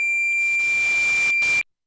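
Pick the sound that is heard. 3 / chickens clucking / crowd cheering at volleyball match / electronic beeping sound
electronic beeping sound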